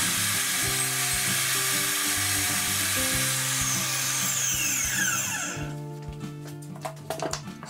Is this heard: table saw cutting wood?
yes